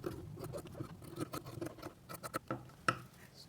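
Scissors cut through blouse fabric in quick, quiet snips and crisp scratchy slices close by, forming a rapid irregular series.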